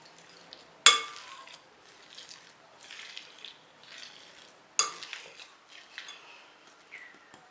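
Boiled potatoes, peas and carrots mashed in a bowl at home, with a couple of sharp clinks of the utensil against the bowl followed by soft, intermittent squishing and scraping, close and quiet, without talk.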